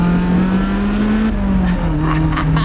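A Lotus Elise powers up a twisty mountain road, its engine note climbing steadily and loud, close up and continuous, with a brief lift and re-pitch as it shifts mid-way.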